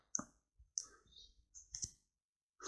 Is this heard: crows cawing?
no